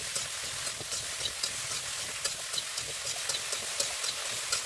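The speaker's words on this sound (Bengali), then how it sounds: "এবার খুন্তি দিয়ে ভালো করে নাড়াচাড়া করে নিলাম" A spatula scrapes and stirs vegetable khichdi in a pot over a clay pipe stove, making a steady hissing sizzle with small repeated scraping clicks throughout, close by and with no voices.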